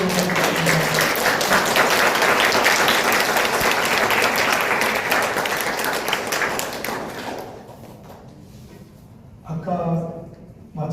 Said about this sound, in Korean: 이제 우리 박수 한 번 더 치시고 들어가시면 됩니다.